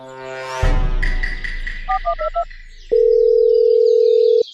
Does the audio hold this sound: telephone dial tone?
yes